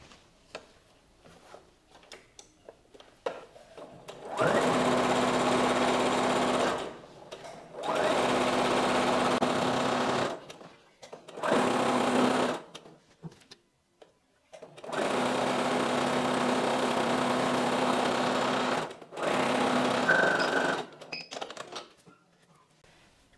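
A sewing machine stitches fabric for a maxi wedding guest dress in four sustained runs of steady mechanical whirring, each separated by short pauses for adjusting the fabric, fairly close and with no talking.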